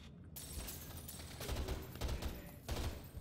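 Rapid gunfire in the video game Underhell rattles out in dense, loud bursts of overlapping shots with brief surges, heard up close and without speech.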